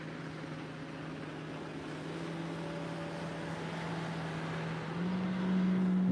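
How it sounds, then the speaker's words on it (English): Bass boats passing on a river, a continuous outboard engine drone that swells louder toward the end as a boat runs close by, with a steady hum and wind noise. "I don't know if you can hear all these bass boats."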